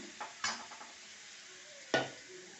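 Spice masala with turmeric, salt and Kashmiri chili powder is stir-fried in a pan, a faint low sizzle punctuated by two distinct scraping strokes of a spatula, quiet and close with no talk.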